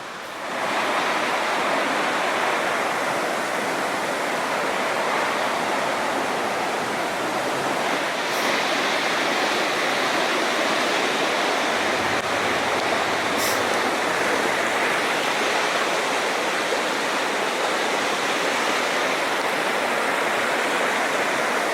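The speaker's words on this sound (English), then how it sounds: "Little Qualicum River coming up to the bridge." Little Qualicum River rushing near the railway bridge at Cameron Lake Siding, a steady, full broadband roar of flowing water that stays close and constant throughout, with no voices.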